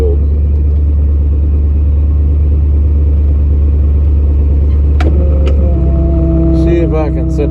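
Tractor engine rumbling loud and steady while setting down a hay bale at a barn during winter cattle feeding, joined near the end by squealing, creaking machinery sounds and sharp clanks.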